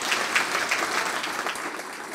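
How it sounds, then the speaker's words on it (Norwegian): Audience applause at a breakfast meeting on climate risk and the Norwegian economy: steady, dense clapping from a full room that holds at even loudness throughout, with no voices over it. "Da vil jeg at du skal få en applaus."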